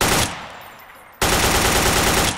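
AK-47 rifle fire from the Garry's Mod M9K weapon pack: a loud burst of rapid shots, a brief pause, then a second sustained burst, close and alone.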